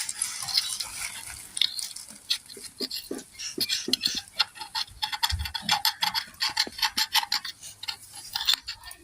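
Egg omelette frying on a hot tawa, a spatula scraping and tapping repeatedly as the egg is worked loose and flipped over, with a steady sizzle underneath, close and fairly busy.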